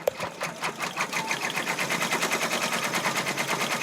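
Embroidery machine stitching a design onto a hat, a fast, steady rapid-fire clatter of needle strokes running continuously after a sharp first click, close and fairly loud with no talking.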